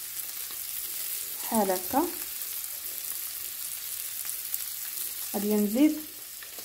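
Sardines grilling dry in a frying pan give off a steady, close sizzle that runs throughout, while someone speaks briefly twice over it.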